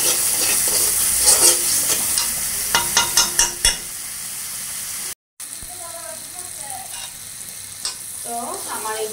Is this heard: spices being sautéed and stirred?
yes